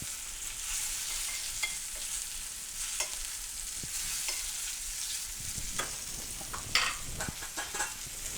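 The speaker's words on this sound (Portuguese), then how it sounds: "Eu vou continuar regando pra gente caramelizar. Tomar cuidado com a manteiga." Pork fillet fries in butter while it is basted, giving a steady close sizzle with occasional spoon scrapes and small spatters.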